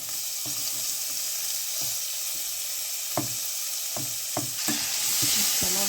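Green chilies, cut in two, frying in a pan for a spicy curry: a steady close sizzle with a few sharp knocks and scrapes of a spoon stirring, no voices.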